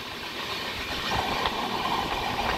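From aboard the 18615 Kriya Yoga Express from Kolkata to Ranchi, the moving train gives a steady close rumble with rhythmic clickety-clack of wheels over rail joints and a constant hiss, without talk.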